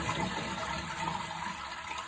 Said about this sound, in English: So we're going to flush, get the water out of the tank.